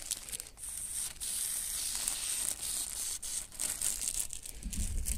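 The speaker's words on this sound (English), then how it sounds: "I'm going to spray it in the bag." Hairspray from an aerosol can hisses continuously for several seconds, slightly muffled and crinkly, sprayed into a bag, fairly quiet and close.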